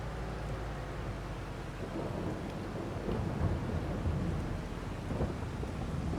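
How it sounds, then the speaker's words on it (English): Rain and thunder in the farming game Farming Simulator 22, a steady wash of rainfall with deep rolling thunder rumbling beneath it, continuous and fairly close. "It has been raining for quite a while."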